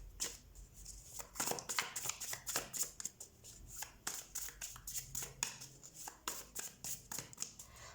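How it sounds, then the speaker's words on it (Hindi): A deck of tarot cards being shuffled by hand, rapid crisp riffles and flicks coming in bursts, close and fairly loud, with no talking. "सबसे पहले हम कार्ड शफल कर लेते हैं"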